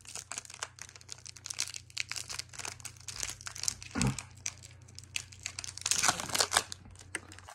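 Topps 2022 Gallery baseball card pack being torn open: close, fairly quiet crinkling and rustling of foil wrapper throughout, with a sharper rip partway through and a busier crackle of handling toward the end.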